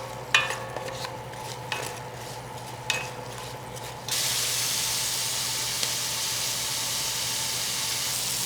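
Onions, celery and carrots sautéing in a pan: a few scraping stirs over a soft sizzle, then the hiss jumps to a louder, steady frying sound that carries on alone.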